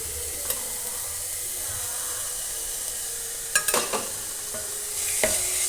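Chopped onions frying in a pan for prawn roast, a soft steady sizzle with a few sharp utensil clinks and scrapes near the end.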